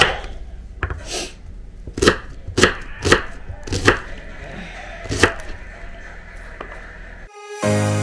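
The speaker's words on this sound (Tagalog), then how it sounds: "Naiiyak na ako sa paghiwa ng sibuyas." A knife chops an onion on a cutting board in sharp, close, irregular thuds, about a dozen strokes spaced unevenly, with no speech, before a brief burst of music at the end.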